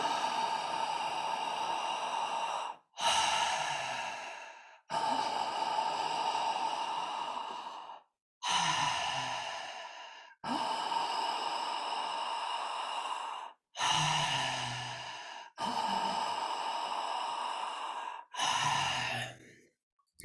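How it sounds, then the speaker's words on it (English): A person doing a continuous breathing exercise, each loud airy breath running straight into the next with no pause, about eight long close-up breaths in an even rhythm. "So you notice as I'm breathing that there's no pause between the breaths."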